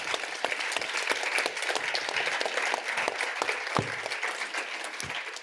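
An audience at a panel event on feminist diplomacy gives the panellists a warm round of applause, thick and continuous, with a few sharper nearby claps standing out from the crowd.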